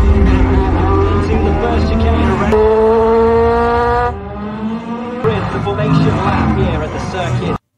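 Racing cars in a film race scene, engines roaring loudly and steadily with rising and falling pitch as they pass, continuous throughout under a music-like tonal bed.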